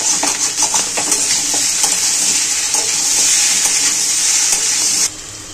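Boiled potatoes stirred and fried in ghee in a pan, a steady bright sizzle with scraping stir strokes throughout, close and loud, cutting off sharply near the end.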